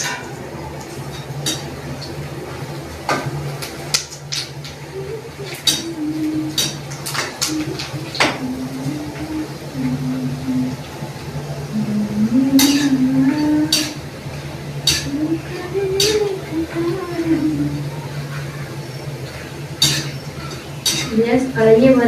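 Metal utensils clink and scrape against a kadhai in a village kitchen while snacks fry, scattered sharp clinks over a low steady hum, with voices talking at times.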